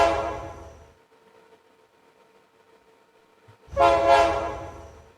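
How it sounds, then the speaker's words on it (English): Two blasts of a train horn ring out, a fading one at the start and a louder, fuller one after a few seconds of near silence with a faint hum. "Can you guys hear the train horn?"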